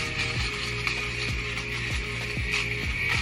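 A small battery-powered fabric shaver runs steadily over pilled clothing, its motor whine constant while rhythmic catching clicks repeat about every half second as it shaves pills away.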